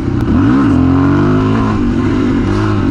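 A Honda CRF450L dual-sport motorcycle revs hard during a wheelie, its engine note rising and falling in a loud, close, sustained drone with a sharp pitch swell early on.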